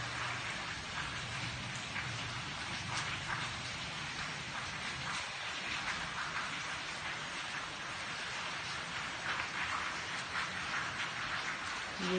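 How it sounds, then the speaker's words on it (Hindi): Steady rain falls continuously, a dense hiss of drops on surfaces at even loudness for the whole stretch, with no voices. "बारिश देखें किस चीज की तरफ बारिश हो रही है।"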